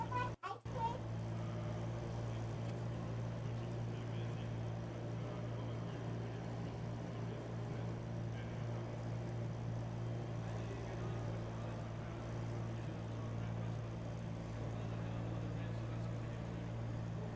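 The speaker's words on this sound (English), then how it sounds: "We are running the 2015 Lamborghini Huracan GT3 2015." A 2015 Lamborghini Huracan GT3 racing car in an online sim race on the Nürburgring Nordschleife: a constant, droning engine note holds steady and fairly loud throughout, with little change in pitch.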